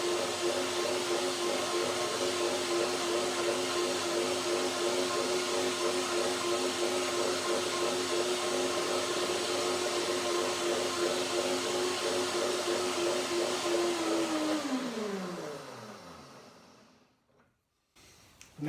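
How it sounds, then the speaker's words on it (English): A kitchen blender whirs through a creamy sunflower seed salad dressing with a loud, steady motor drone close by, then winds down in pitch as it is switched off and falls quiet. "I might have to blend one more time to get it more creamy."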